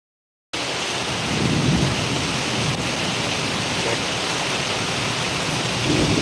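Heavy monsoon rain pours down in a dense, steady roar with deep rumbling thunder underneath, starting abruptly and holding loud and constant throughout.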